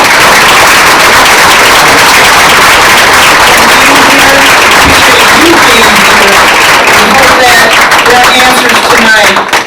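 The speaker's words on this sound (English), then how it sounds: "Let's give these gentlemen a round of applause." Loud, sustained audience applause after a mayoral debate hosted by the Urban League, a dense roar of clapping with some cheering, voices audible beneath, lasting nearly ten seconds and thinning at the end.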